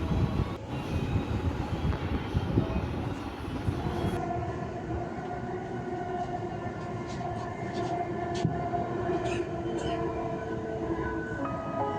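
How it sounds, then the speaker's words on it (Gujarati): A metro train runs along its line with a low, continuous rumble of rolling wheels and motor hum, fairly quiet and steady, with a brief brighter whine near the start. "ત્યાં સુધી તમે જુઓ મેટ્રો."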